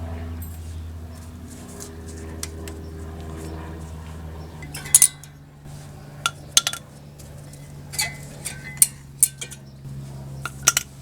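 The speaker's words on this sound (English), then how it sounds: "now we can pull out the old pads and pull off these little V springs" Old brake pads and small V springs come off the front caliper of a 2011 Honda Pilot, giving sparse, sharp metallic clinks and clatters at close range after a quieter stretch of low hum.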